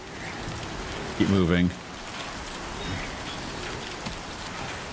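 Timefall rain in the Death Stranding 2 video game hisses steadily as a broad, even wash throughout, with a brief spoken line cutting in near the start.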